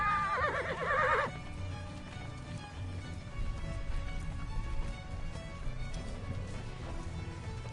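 A herd of horses stampeding across open Montana range: one horse whinnies loudly at the start, then a steady rumble of many galloping hooves carries on underneath.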